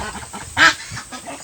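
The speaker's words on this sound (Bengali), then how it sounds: "বৃষ্টির কারণে আমার খামারের যে হাঁসগুলো আছে খামারের হাঁসগুলো ওরা গোসল করতেছে" Farm ducks bathing and playing in the rain let out one loud, nasal quack close by, over a low murmur of softer calls.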